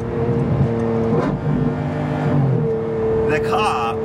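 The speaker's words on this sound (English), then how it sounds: "road testing the exhaust at the moment." A Lamborghini Revuelto fitted with a Gintani F1 exhaust on a road test, its engine humming steadily up close with a swell in revs, while someone talks over the sound.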